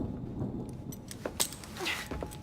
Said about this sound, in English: Now hand over your keys.